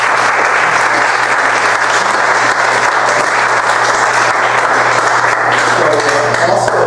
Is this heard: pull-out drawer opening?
no